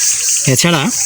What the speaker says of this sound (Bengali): বিশেষ করে ঝিঝি পোকা ডাকছে, ঝিকঝিক ঝিকঝিক করে শব্দ করছে।